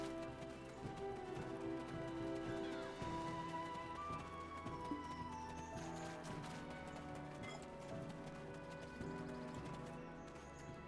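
Horse hooves clip-clopping at a steady gallop in the Black Desert Online video game, a continuous rhythmic clatter layered over busy game music and effects.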